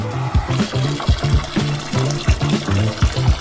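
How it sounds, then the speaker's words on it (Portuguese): Water poured into a plastic basin, splashing and gurgling loudly and close in a steady stream with rhythmic surges, with no voices. "Pegamos 3 bacias de plástico. Em uma delas colocamos água."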